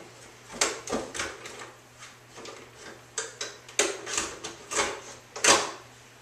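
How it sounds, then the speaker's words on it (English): Door of a Draeger Accuro 2000 opened and an Accuro hand pump slid into place, giving a close series of sharp plastic clicks and clunks in an uneven rhythm, with no talking. "you take your Accuro pump, open the door, slide it in"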